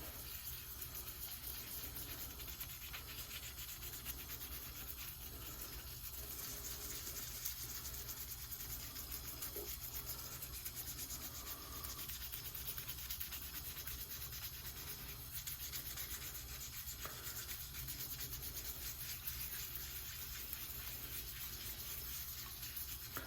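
An estate pipe bowl gets scrubbed with Murphy's Oil Soap, making a faint, steady wet rubbing that goes on without a break for over twenty seconds, with running water under it. There is no talking.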